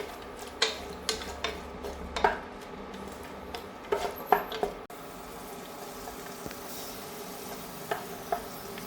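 Raisins and cashew nuts fry in a pan, a low steady sizzle broken by sharp, irregular clinks and scrapes as a utensil stirs them against the metal, the knocks thinning out in the later part.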